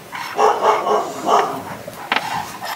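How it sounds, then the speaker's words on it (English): A dog named Bentley barks indoors in a few loud, excited bursts, followed by a quick higher yip near the end. "Bentley's barking because the girls just got home."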